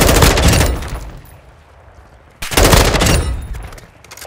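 Mid-caliber gunfire in the video game Call of Duty DMZ, heard as two loud bursts of rapid fire separated by a quieter gap of about a second and a half, each decaying into a rumbling tail, with no talking.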